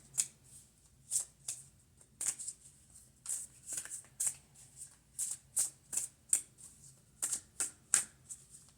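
Deck of cards shuffled repeatedly in quick, crisp riffling bursts, close and fairly quiet with no talking.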